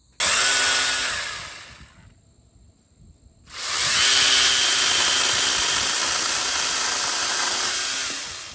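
A battery-powered DeWalt 60V MAX telescoping pole saw runs loud and close in trial cuts: a high whining buzz, a brief drop to near silence as it stops, then a sustained run that slowly fades at the end.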